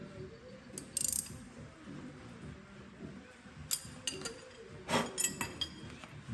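Install nuts being tightened onto BMW wheel studs during a stud replacement: a ratchet's scattered metallic clicks and clinks, fairly close, come in short irregular bursts over a low background, with no talking.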